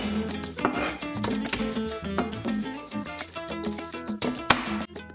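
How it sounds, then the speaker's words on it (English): Garlic being chopped on a cutting board for a pork and wine marinade, a steady run of quick, close knife taps on the board, loud and continuous with no talking. "I'm gonna start off by peeling and chopping up some garlic to put in the dish"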